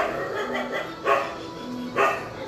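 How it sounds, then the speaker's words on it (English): Three dogs barking close by, a few sharp overlapping barks and yips in short bursts, with no voices. "my three dogs are barking here"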